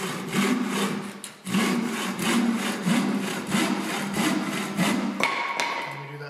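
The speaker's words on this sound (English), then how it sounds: "A common mistake with bow saws is that people don't use all of the length of the blade to cut" Steady back-and-forth sawing through wood, rhythmic long strokes close by with a brief pause early on, loud and continuous.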